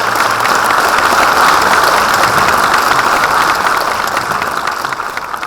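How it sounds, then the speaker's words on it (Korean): Large audience applauding at a formal university anniversary ceremony in a hall, loud uniform clapping that holds steady, then gradually fades toward the end, with no voices over it. "여러분 큰 박수 부탁드립니다."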